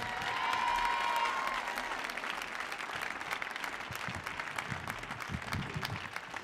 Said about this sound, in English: Clap your hands for Chai Dilla.